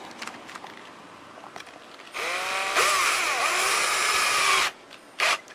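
A screw is driven in with a power driver during a Phlatprinter 3 build: after quiet handling noises, a loud motor whine runs for about two and a half seconds, then cuts off, followed by a short final burst.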